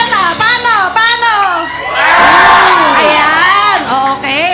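A church congregation at a Sunday cell celebration shouts and cheers together like freed people, loud overlapping whoops and voices swelling into a sustained crowd roar in the middle before individual shouting resumes.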